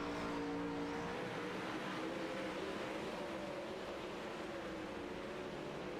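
Race cars in a dirt-track racing video game lap together as a steady, continuous engine drone with layered revving tones, loud and sustained.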